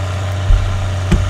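A tractor engine idles steadily in Farming Simulator 2013, a loud low drone with two brief thumps partway through and no talking.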